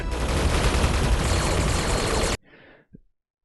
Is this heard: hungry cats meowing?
no